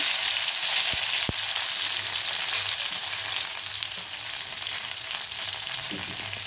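Mustard seeds, cumin and curry leaves sizzle steadily in hot oil for a beans bhaji, a loud, close, continuous hiss with a couple of sharp pops near the start.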